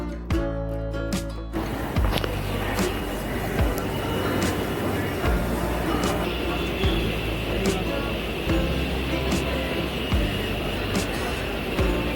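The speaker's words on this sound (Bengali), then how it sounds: "ট্রেনও স্টার্ট হয়ে গেছে" A train starts and rumbles steadily along with repeated metallic clacks from the wheels, loud and close, running continuously without any talking.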